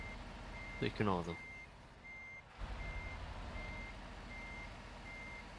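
Steady, evenly spaced reversing beeps from a truck in the Euro Truck Simulator video game during a winter drive, heard under a continuous engine hum while someone speaks German briefly near the start.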